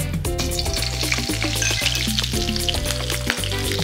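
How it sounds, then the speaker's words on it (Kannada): Green chilies frying in hot ghee give a steady, loud sizzle with stirring clatter throughout, close up, no voices. "ತುಪ್ಪ ಹಾಕ್ಕೊಳ್ತಾ ಇದ್ದೀನಿ. ಹಸಿಮೆಣಸಿನ್ಕಾಯಿ ಹಾಕೊಳ್ಳೋಣ"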